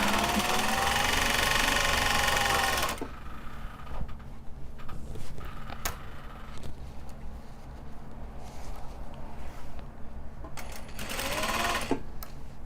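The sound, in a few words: sewing machine stitching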